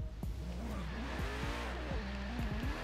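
Race cars in Forza Horizon 3 launching off the start line, one a Tesla fitted with a Koenigsegg Regera engine: several engines revving up with rising whines and quick gear-change drops, close and steady, tires squealing faintly.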